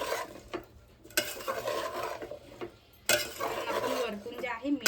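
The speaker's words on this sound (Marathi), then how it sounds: "त्यानंतर थोडंसं पुन्हा एकदा मिक्स करून घेऊया." Jackfruit vegetable masala being stirred in a pan, intermittent scraping and clinks of a spoon against metal over a faint sizzle, in separate bursts.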